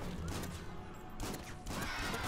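Gunfire in the PC video game Killing Room, a dense burst of rapid shots followed by a second loud burst after a brief dip, heard alone.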